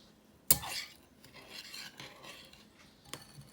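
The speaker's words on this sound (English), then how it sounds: "Then I'm just gonna mix it all together." A spoon scrapes and rasps against a bowl while stirring instant coffee, sugar and water together for dalgona coffee, with a sharp clink at the start and another near the end, up close and moderately loud.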